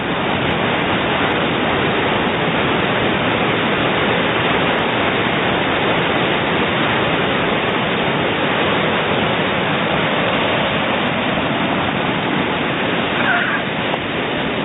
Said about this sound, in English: listening to that sea smashing against the rocks today